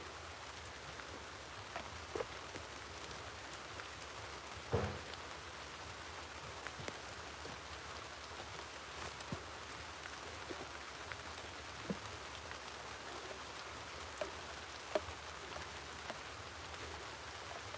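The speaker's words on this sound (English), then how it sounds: "Rain is coming down, down, down." Steady rain comes down outdoors as an even hiss, with scattered sharper drops and taps standing out now and then, and no voices.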